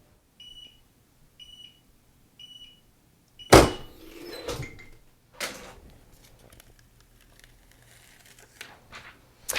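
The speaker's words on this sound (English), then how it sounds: "once the 15 seconds is complete, our press will automatically open up and we can peel" A heat press finishing its 15-second cycle and opening by itself while pressing fanwear: a few faint, evenly spaced beeps, then a loud sudden clunk and hiss, followed by a couple of softer thuds and rustles in an otherwise quiet room.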